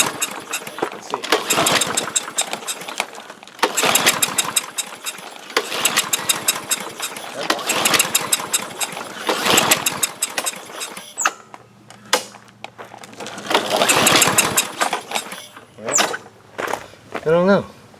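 A Briggs and Stratton small engine with a freshly cleaned plastic carburetor sputters through repeated short bursts of running, each catching briefly and dying, with a few quiet gaps between attempts and a voice heard faintly at times.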